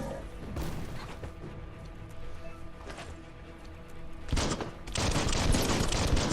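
Video game gunfire in Biomutant, a dense continuous rattle of shots and impacts that swells louder near the end, with no speech over it.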